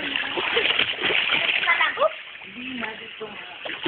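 Water splashing as a child swims in a pool at a birthday party, busy churning splashes that ease off halfway through, with children's voices talking over them.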